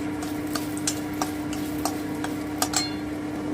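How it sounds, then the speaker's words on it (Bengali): A spoon stirs crushed cardamom in a pan while carrot kheer is being made, giving sparse, sharp taps and light scrapes. A quiet background sizzle runs under a steady low electrical hum, with no talking. "থেতো করে রাখা এলাচটা দিয়ে দিচ্ছি একটু নেড়ে দিচ্ছি"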